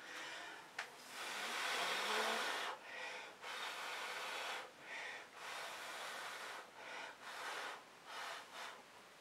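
Air is blown onto fluid art paint in repeated airy bursts, a long gust followed by a string of shorter puffs with brief pauses between them, close and fairly soft.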